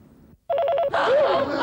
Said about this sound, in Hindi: फिर से घंटी बज गई।